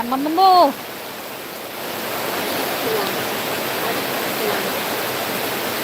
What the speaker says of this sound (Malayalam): ഓ ഭയങ്കര മഴ തന്നെ